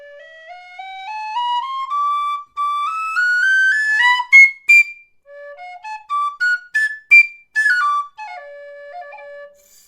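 A Mazur high D tin whistle plays alone, climbing through a rising run of clear, bright notes, then moving into short, quick tongued phrases and ending on a held lower note.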